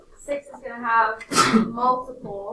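A sneeze bursts out in a classroom during a math lesson, one sharp loud burst in the middle of a teacher's ongoing speech.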